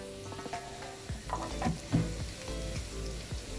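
Onions frying in a pan crackle and sizzle nearby, with irregular stirring scrapes and small pops over a steady hiss, and no talking.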